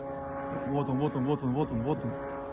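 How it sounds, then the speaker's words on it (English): Ukrainian attack drone passing overhead toward the port of Ust-Luga, a wavering, pulsing engine whine that rises and falls in repeated swells over a steady droning background, moderately loud. "We can hear the drone flying over."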